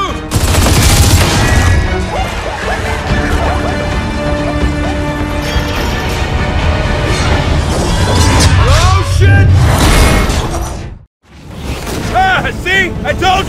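Dense, loud gunfire from Gears of War 4 fills a busy battle mix with voices and music, dropping out briefly near the end before the chaos resumes.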